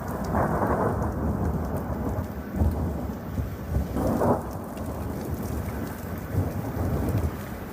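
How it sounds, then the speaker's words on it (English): Thunder snow recorded overnight in Ross Township, with low rolling thunder rumbles swelling several times over a steady hiss of falling precipitation, heard outdoors at moderate volume. "We're talking about thunder snow."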